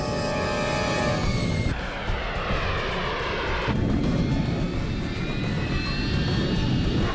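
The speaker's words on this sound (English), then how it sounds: "Is that a vertical? It is! It's a VTOL!" A VTOL aircraft's engine roars in the film Atlas Shrugged Part 3, a loud sustained jet-like whine and rumble that shifts pitch in distinct steps as it runs.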